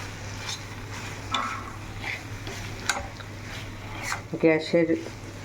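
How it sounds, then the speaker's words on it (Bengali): Chicken being stirred into fried masala in a pan: soft scraping and squelching strokes over a low sizzle, with a short burst of voice near the end. "চিকেনটা দিয়ে ভালো করে মশলার সাথে একদম মিক্সড করে নিতে হবে"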